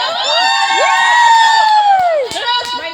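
A crowd of relatives at a family reunion in the Philippines lets out a loud, sustained shout in unison, voices held together for about two seconds before breaking off, followed by a few scattered claps and shorter cries.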